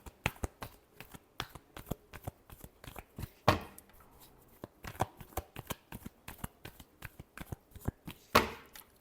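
Tarot cards are shuffled by hand in quick papery riffles and taps, close and crisp, with a couple of louder snaps standing out from the steady rhythm and no talking.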